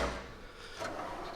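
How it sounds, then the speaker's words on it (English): A deep drawer on a new ICON double-rollered tool box slides open, a soft rolling rumble followed by a faint knock, close by and quiet. "then go down to another thicker drawer down here"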